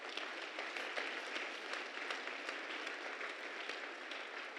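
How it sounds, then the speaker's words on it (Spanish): Congregation applauding in a church during a Spanish-language sermon, a dense, steady wash of many hands clapping at once, loud and sustained with no talk over it. "Dale un fuerte aplauso al Señor."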